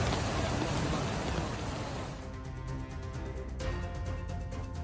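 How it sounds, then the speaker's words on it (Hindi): Heavy rain pours down in Mecca, Saudi Arabia, a dense, steady hiss of downpour that stays loud and continuous throughout. "बीते कई दिनों से यहां पर भीषण बारिश हो रही है"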